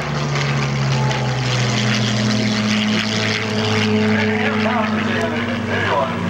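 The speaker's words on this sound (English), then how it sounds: "Mr. Dan Dameo for the Millville P-40. Nice picture rolling down Airshow center line" A P-40 Warhawk warbird flies along the airshow center line, its propeller engine a loud, steady droning roar throughout, with an announcer's voice audible over it.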